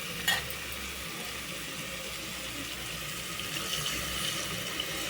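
Water is poured into a pot of tomato curry cooking on the stove, a faint, steady hiss and gurgle that goes on for several seconds without talk.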